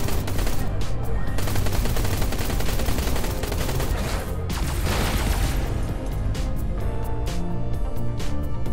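Rapid, relentless bursts of spaceship weapon fire fill the Everspace 2 space combat game, a loud unbroken machine-gun-like barrage with booming impacts layered beneath it, running for the whole stretch without pause.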